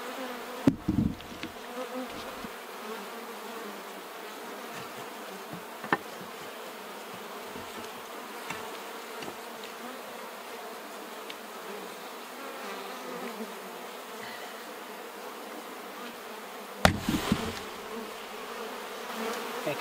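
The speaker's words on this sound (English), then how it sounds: "Look at all these bees up here." A swarm of honeybees hums steadily during a switch to new hives, a dense continuous buzz with individual bees droning past close by, occasional louder thumps at the start and near the end.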